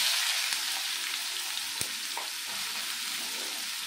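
Chopped onions sizzle in a hot pan for an egg piyaji dish, a steady bright frying hiss with a couple of faint stirring clicks, close and fairly quiet.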